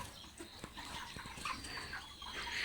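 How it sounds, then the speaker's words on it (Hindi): Chickens on a poultry farm: scattered clucks and short calls over a steady, busy barn din, with occasional wing flaps, all at moderate distance without talk. "मुर्गियाँ काफ़ी बहुत बड़ी बड़ी आ रही हैं मुर्गियाँ"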